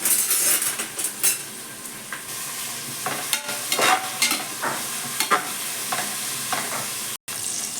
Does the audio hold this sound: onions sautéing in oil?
yes